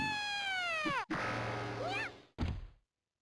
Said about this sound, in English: Just makes a lot of cat noises.